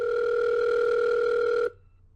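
A steady telephone dial tone of an outgoing call drones loud and unbroken, then cuts off abruptly, leaving faint line hiss.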